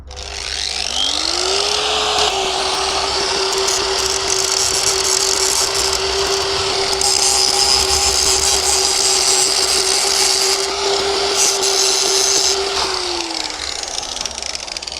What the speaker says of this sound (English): So first we're gonna go ahead and grind this bad boy off.